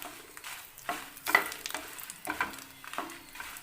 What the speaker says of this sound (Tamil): ஒரு 5 நிமிஷம் வறுத்துக்கோங்க போதும்.